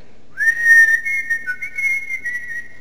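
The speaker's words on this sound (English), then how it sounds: "He then puckered up his mouth and whistled very loudly." A single loud, sustained whistle rings out clearly, holding one high pitch with a slight warble for about two seconds.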